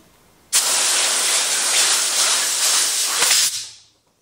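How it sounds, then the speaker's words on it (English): A loud, steady hiss of compressed air blown under a Harley-Davidson Shovelhead chopper's handlebar grip, starting abruptly, holding for about three seconds, then tapering off. "Another trick I use is compressed air. Slide it up under the grip and inflate it."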